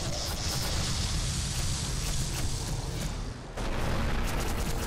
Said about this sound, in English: we rode out the explosions.